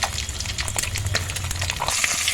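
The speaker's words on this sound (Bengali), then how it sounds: "তো মাছটা আমি ফ্রাই করতে বসিয়ে দিয়েছি।" Rui fish fries in a pan with a steady, close sizzle, peppered with sharp crackles and pops throughout.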